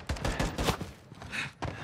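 Rapid video-game gunfire comes in several sharp, close bursts over a couple of seconds, with brief gaps between volleys and no talking.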